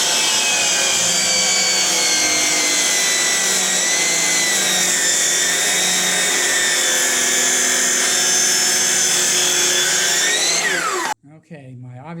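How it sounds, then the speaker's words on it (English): Chop saw cutting through an oak block with a dull blade, a loud whining motor and continuous cutting roar for about eleven seconds, then an abrupt spin-down and quiet after the cut. "Here's my chop saw."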